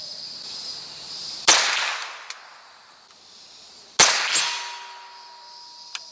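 Two sharp .22LR shots from a Winchester Wildcat rifle at a bench rest, 50 yards from a steel target, each a loud crack with a ringing decay, spaced a few seconds apart, with faint clicks between.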